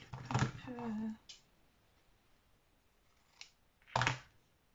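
Scissors cutting material while making shabby vintage Easter egg decorations, a couple of distinct crisp snips spaced apart in a quiet room, after someone speaks briefly.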